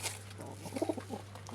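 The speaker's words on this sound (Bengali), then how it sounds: "এই কবুতর" A pigeon coos softly a few times at a distance, low and faint over a steady hum, with no talking.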